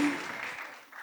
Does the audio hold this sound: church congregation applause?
yes